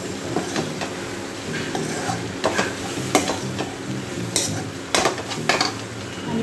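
Cabbage and capsicum mixed vegetables stirred in a pan, giving repeated scraping and clattering strokes of a utensil against metal over a faint sizzle, fairly close and with no talking.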